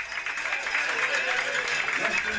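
Football crowd at a college game between Trinity and Sewanee cheering and applauding steadily throughout, a broad, sustained roar of many people at moderate distance with no clear individual voices standing out.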